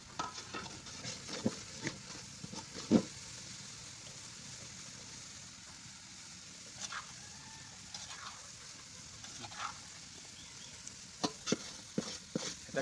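Chicken with turmeric, ginger, onion and garlic is stir-fried in a pan, producing a quiet continuous sizzle punctuated by intermittent scraping stirs and clinks, close and without talk.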